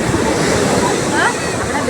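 Sea waves wash in at Muttam Beach with a broad, close rushing slosh, steady and loud throughout. Bursts of talk mix into the surf.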